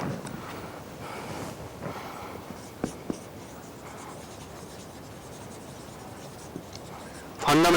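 Pen or chalk writing out the units of fundamental quantities during a physics class, soft scratchy strokes in short runs with occasional taps, quiet and close against faint room noise.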